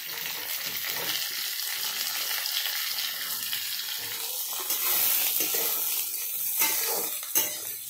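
Potatoes fry in a pan for a kundru vegetable dish, a continuous sizzling hiss that rises and falls, with a few brief knocks and scrapes toward the end, close and without talking.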